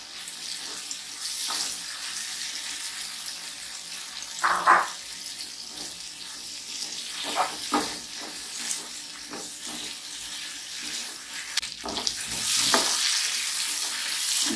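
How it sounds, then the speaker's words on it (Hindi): Fried potatoes stirred into hot masala for a mustard potato curry: a steady close sizzle broken by a few louder scraping stirs and clatters, with no voices. "मसाला ऑलरेडी हो चुका है, उसमें हम हमारा जो फ्राई पोटैटो उसको मिलाएंगे"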